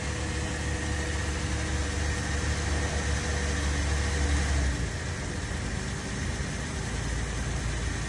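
A 2007 Saturn Outlook with a 3.6 V6 idles just after a jump start, a steady low engine hum and drone held throughout, fairly close, with a slight drop in rumble partway and no voices.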